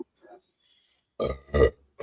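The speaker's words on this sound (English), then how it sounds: "I got a burp." A man burps after drinking beer, a short, close, guttural belch in two quick bursts following near silence.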